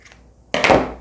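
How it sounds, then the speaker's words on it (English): Large scissors make a single crisp, close snip as they trim yarn on a punch needle piece, with near silence before it. "I'm going to take out my larger scissors and just snip it off a little bit"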